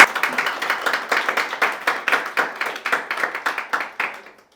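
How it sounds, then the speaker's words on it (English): A small group of university students in a London meeting room gives a short round of applause, individual claps clearly separable in a quick uneven rhythm that thins and fades out near the end. "Can we all just have a round of applause for him?"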